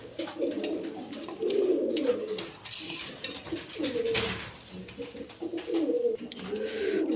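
A pair of Afsan Girizel pigeons coos nearby in repeated soft, throaty, rolling calls that rise and fall steadily, with a brief brighter rustle partway through.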